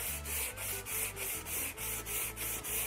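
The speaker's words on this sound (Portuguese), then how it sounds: "Então procura sempre lixar no sentido do veio." Wood is sanded by hand with sandpaper on a sanding block, working along the grain in steady back-and-forth strokes, about ten rhythmic scrapes, close and clear with no talking.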